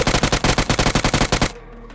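Automatic gunfire in BGMI PUBG Mobile, a rapid burst of about fifteen sharp, evenly spaced shots lasting a second and a half, then a brief fading echo.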